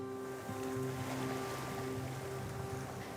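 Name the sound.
ocean waves on a beach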